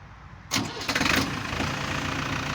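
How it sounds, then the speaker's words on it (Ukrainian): A Yanmar FX305 30 hp tractor engine cranks and catches, then settles into a steady, close idle with a constant throbbing drone. "Зараз спочатку спробую його завести, показати, як він заводиться."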